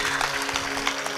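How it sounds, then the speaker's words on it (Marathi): Crowd clapping at a devotional Shiv Mahapuran katha gathering in Gevrai, a dense steady patter of many hands sustained through the moment. "जोरदार टाळी वाजून ताईंचं स्वागत करा"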